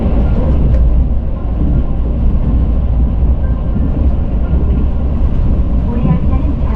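Steady loud rumble inside a Mugunghwa train carriage as it runs into Gumi station on the Gyeongbu line. Continuous low roar and rattle throughout, with no distinct clatter or braking.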